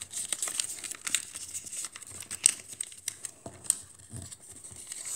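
Origami paper being folded for a takeout box, with close, light crinkling and soft papery creases and taps in an irregular patter, fairly quiet throughout.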